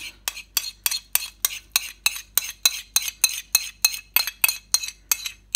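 A spoon stirs grated ginger and ginger juice into homemade turmeric paste for golden milk, clinking against the bowl in a steady run of about sixteen crisp, close, evenly spaced strokes with no talking.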